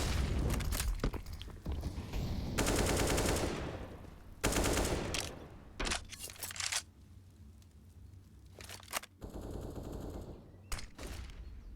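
Bursts of automatic rifle fire crackle during an early fight at banana in a CS:GO grand final match, dense volleys in clusters with short pauses between, loud and close with no talk over them.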